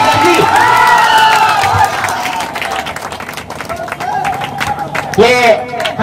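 Spectators at a football tournament clap and cheer for the man of the match, loud crowd applause with whoops and shouting voices, someone talking over it on a public address, and the cheering swelling again near the end.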